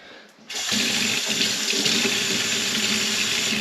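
Running tap water pours steadily as a fish-cleaning knife and a small-scaled haddock or cod are rinsed under it on a jigging trip, the flow starting abruptly and continuing loud and close with no talk.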